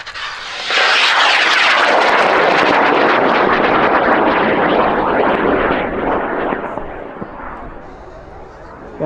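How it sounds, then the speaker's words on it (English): A high-power rocket at a large launch event in Helm, California ignites and lifts off with a loud roaring blast that swells quickly, holds for several seconds, then fades as it climbs away. "Pad 1C, we're gonna fly in 5, 4, 3, 2, 1, ignition. There it goes."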